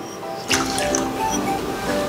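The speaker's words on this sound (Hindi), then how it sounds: "अब हम इसमें चावल शामिल करेंगे" Rice ground with water is poured as a paste into milk in a wok for Lahori gajrela: a sudden wet splash and squelch, followed by a soft continuous liquid trickle and sloshing.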